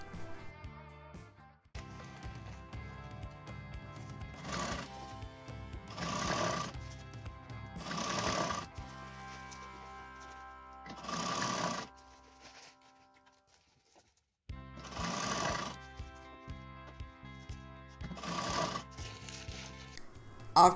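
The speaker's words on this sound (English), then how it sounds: "Now sew this lace at the bottom circumference like this." Sewing machine stitching lace onto the hem of a net fabric dress, running in several short bursts of a few seconds each with brief pauses and a longer stop partway through, fairly quiet and close.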